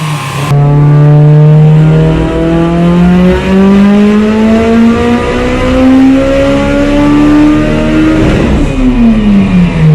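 A built 1100-horsepower Mitsubishi Evo IX with a sequential gearbox, running 50 psi boost, screams through loud, close full-throttle race pulls, its pitch climbing steadily through a long gear before a sharp shift drops it.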